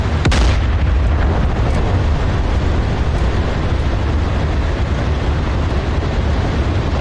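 A 120mm high-explosive shell fires from a main battle tank's cannon in the DCS World combat simulator, one loud close blast followed by a long, dense rumbling roar that stays heavy for several seconds.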